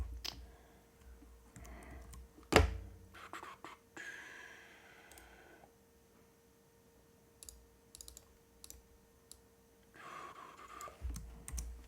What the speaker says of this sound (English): Yeah, I'm going to have to type it out manually.